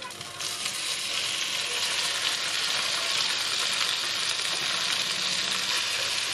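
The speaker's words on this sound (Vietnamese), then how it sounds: "Rồi mình cho vô chiên" Constant loud sizzling and crackling of tofu frying in hot oil, close and steady throughout, with no voices.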